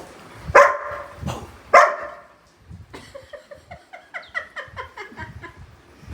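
Two sharp, loud barks up close, followed by a quick run of softer, high-pitched yips and whines.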